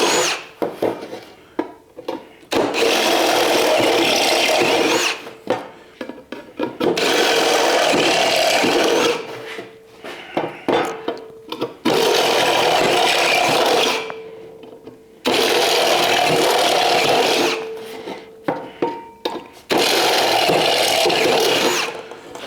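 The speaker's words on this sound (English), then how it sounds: "That's how easy it just drills right through" Power drill boring holes through 16-gauge sheet metal while building an air tool rack, in several sustained loud bursts of a few seconds each, separated by short pauses.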